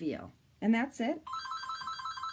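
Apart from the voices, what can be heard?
telephone ringing in the background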